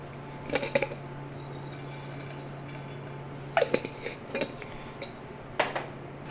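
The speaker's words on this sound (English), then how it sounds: "So if you can hear that, they're starting to crack" Pumpkin seeds (pepitas) toasting in oil in a pan, giving a few sparse, quiet crackles and pops in small clusters over a faint steady hum, close and without talk.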